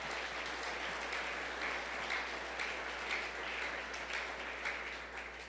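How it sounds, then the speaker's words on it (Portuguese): A church congregation applauds in a large hall, producing a continuous, even wash of many hands clapping at moderate distance, steady throughout with slight swells and a gentle tail-off at the end. "Você pode aplaudir ao Senhor por isso?"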